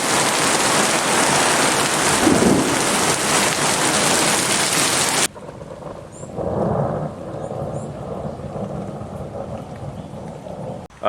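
Heavy rain roars loudly in a thunderstorm for about five seconds, then cuts abruptly to a quieter patter with low rumbling and scattered drips.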